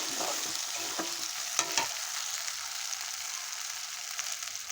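Chicken stomach and liver dropped into oil-topped spice paste sizzle and crackle in a pan, with a few quick stirring knocks early on before a quieter steady fry.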